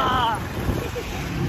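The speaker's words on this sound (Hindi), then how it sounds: "आज हमारा पहला दिन और हवा चलने लग पड़ी मजेदार" Wind gusting against an outdoor microphone, a steady low rumbling roar throughout with a brief faint voice at the start.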